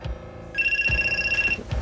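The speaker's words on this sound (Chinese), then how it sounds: "电话" A telephone in a police station rings with a single electronic trill lasting about a second, close and clear, framed by soft thumps before and after.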